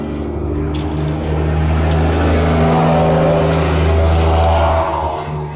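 A Jeep diesel engine revs and runs loudly and steadily up close, with a deep, rough idle rising and swelling in bursts throughout, and no talking.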